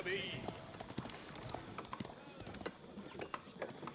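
Light horse cavalry units in a medieval strategy video game, with rapid clip-clop hooves tapping in an uneven rhythm, a short neigh near the start, and someone talking quietly underneath.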